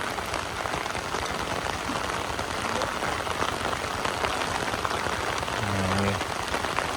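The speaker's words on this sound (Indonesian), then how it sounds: "Hujannya makin awet, makin lebat nih sana." Heavy rain pours down in a dense, steady hiss of drops drumming on a surface, loud and unbroken throughout, with a faint low engine tone rising briefly near the end.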